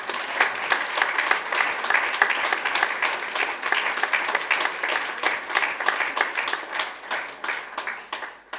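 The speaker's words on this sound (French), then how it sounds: "On peut applaudir le Seigneur." A church congregation applauds together, a dense, steady stretch of many hands clapping at close range that carries on without a break and thins only slightly toward the end.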